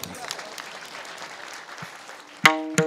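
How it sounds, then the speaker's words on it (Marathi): Applause ripples through the audience at a kirtan, soft scattered clapping under a talking voice, followed by two sharp percussive hits near the end. "यांच्यासाठी टाळ्या होऊन जाऊ द्या"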